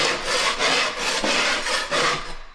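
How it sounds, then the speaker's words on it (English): A hand scraper rasps across a subfloor, pulling off glued, soaked carpet padding in four or five loud, rough strokes, close up with no talk. "So we're going around with a scraper"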